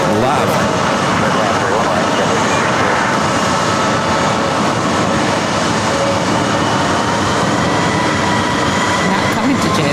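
An Airbus A350-1000 rolls down runway 31 Left at JFK, producing a loud, steady jet roar that holds constant and dense for the full ten seconds, with no clear pause or change in pitch.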